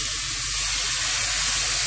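Hot water is poured into a pan of chicken korma on the stove, giving a dense, continuous hissing sizzle close by, steady and loud throughout.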